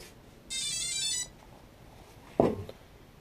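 A DJI NAZA-M V2 flight controller on a stock Flame Wheel 450 quadcopter plays its electronic startup melody, a bright run of beeping tones lasting under a second, followed by a short dull knock.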